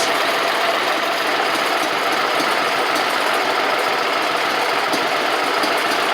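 A Gravely 260Z mower engine idles steadily and fairly loud, a continuous even rumble with no change in pace; the mower has a fault that lets it run only with the key in the start position.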